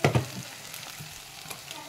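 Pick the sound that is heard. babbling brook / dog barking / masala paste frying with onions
masala paste frying with onions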